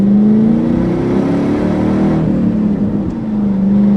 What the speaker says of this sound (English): We're warmed up good, so we'll go ahead and get in the throttle some.